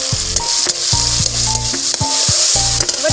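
Spice paste sizzles steadily in hot oil in a pan as chili powder is added for an egg curry, a close, bright frying hiss with background music playing underneath.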